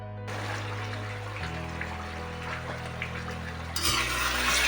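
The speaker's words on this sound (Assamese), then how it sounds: "মই এতিয়া প্ৰায় 15-20 মিনিট সময় ভাজি ৰাখিম এনেকৈ" Mutton pieces frying in a pan for a yogurt-based mutton curry, a steady close sizzle with stirring scrapes, a low hum beneath and the sizzle surging louder near the end.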